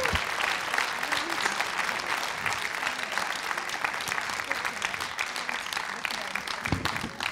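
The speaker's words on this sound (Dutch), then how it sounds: "Applaus." Steady applause from an audience at a children's recitation contest final in Limburg, a continuous wash of clapping of moderate loudness that lasts throughout, with occasional louder individual claps and some voices underneath.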